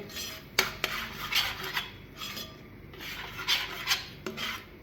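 Cooked dates sautéed in ghee for a date and banana payasam, stirred in a pan with repeated metallic scrapes and rubbing strokes of the spoon against the pan, close and fairly quiet, no talking.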